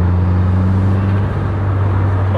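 A car with an Invidia catback exhaust gives a loud, steady low rumble from inside the cabin, smooth and constant without drone, alone with no talk.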